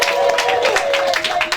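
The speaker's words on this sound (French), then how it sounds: "applaudissez pour ma grand-mère" Audience applause at an African excellence awards ceremony, a steady wash of clapping filling the room with a held tone running beneath it, continuous and fairly loud throughout.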